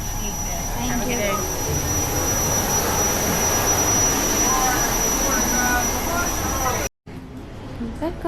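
The jet engine of a small passenger plane roars in a steady, loud broadband rush with a faint high whine, heard from inside with voices murmuring underneath, then cutting off abruptly near the end.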